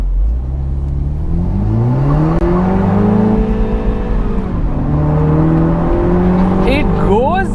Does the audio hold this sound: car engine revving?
yes